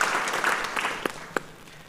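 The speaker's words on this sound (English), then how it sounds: "I appreciate the applause as well" Brief, moderately loud audience applause at a university innovation-centre fireside chat fades out, with a couple of sharp isolated claps near the end.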